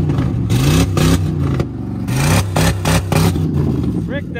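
A Dodge car engine runs and revs hard in loud repeated bursts, the throttle blipped about every half second to second with brief dips between, close by, with voices talking over the roar.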